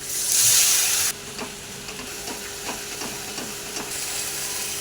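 Water hits a hot frying pan holding onions, ginger-garlic paste, salt, turmeric and chilli powder for a prawn and ash gourd curry, bursting into a loud sizzle that drops off after about a second, leaving a softer steady frying hiss with faint stirring scrapes.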